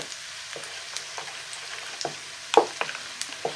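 Tomato pulp hits a hot pan with cumin seeds and paprika for a vegetable tagine, giving a soft, low sizzle broken by scattered clicks and scrapes of stirring, loudest near the end.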